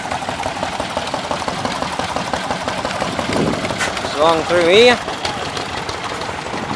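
Old stationary engines chug at a steam rally, a steady knocking rhythm close by with a rising whistle-like tone near the end, while someone talks over them.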